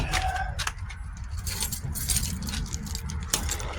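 Car keys jangle and clink close by in repeated bursts while someone rummages for them during work on a 2017 Kia Soul project car, with metallic rattles continuing throughout.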